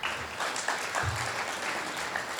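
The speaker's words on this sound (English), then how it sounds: "Give her a round of applause" Applause at an alumni awards ceremony for a staff member, a continuous crowd of hands clapping at steady volume across the whole stretch, with no talk over it.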